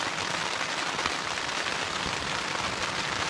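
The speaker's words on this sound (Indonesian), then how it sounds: "di hujan lagi." Rain falls steadily, a dense even hiss of drops on surfaces, constant and fairly loud throughout with no voices.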